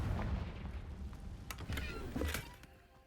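A Confringo fire spell in the game Hogwarts Legacy bursts in a dusty, cobwebbed room, giving a couple of quick, punchy blasts over a muffled rumbling background.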